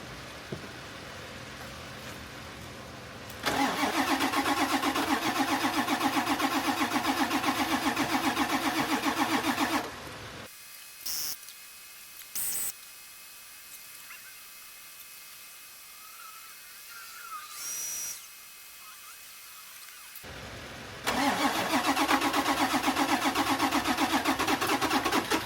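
A truck engine, likely a 1991 Ford F250 7.3 IDI diesel in a military truck body, cranks and fires, runs loudly for several seconds, cuts out for a quiet stretch with a few clicks and knocks, then starts again and runs.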